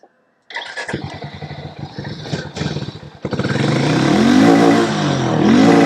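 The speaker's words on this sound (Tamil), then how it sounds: "ஹார்லியோட சவுண்டு அப்படியே இருக்குது." A Harley-Davidson X440 motorcycle's 440 cc engine cranks and catches with a loud, lumpy idle, then revs up into a strong, steady roar close by, with no voices.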